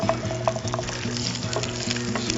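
Peeled garlic cloves and small shallots fry in hot oil in a pan, giving a steady close sizzle with scattered pops and light stirring throughout, and no voices.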